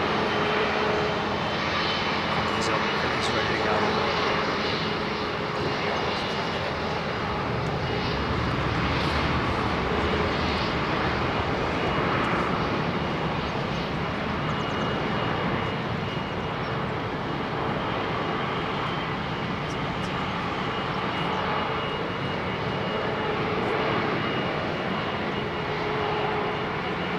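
A Qantas airliner on flight QF2 departs London Heathrow, its engines giving a sustained, even roar with faint higher whines threaded through, close and continuous for the whole stretch, no talking.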